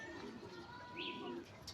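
Faint, soft cooing of racing pigeons at a loft against a quiet outdoor background, with a brief higher chirp partway through.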